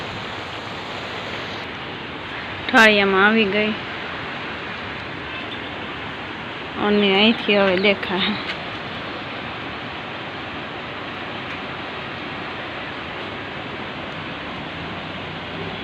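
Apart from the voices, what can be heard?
rain falling in village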